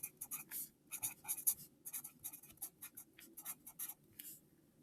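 Pen or marker writing out an equation, a close, quiet series of quick scratchy strokes in irregular bursts with short pauses between them.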